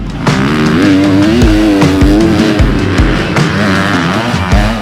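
A 2026 Kawasaki KX250 motocross motorcycle engine revs loudly and close, its pitch climbing and falling through repeated throttle bursts and gear changes.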